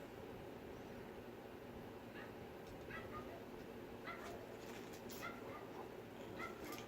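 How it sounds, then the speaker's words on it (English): A dog barks outdoors at a distance, sending faint, scattered yips and barks over a steady indoor background hum, with nobody talking. "My dog barking out there."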